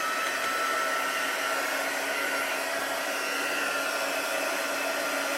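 Steady, even whoosh of a heat gun blowing hot air over embossing powder on a card, held close and loud for several seconds with no talking.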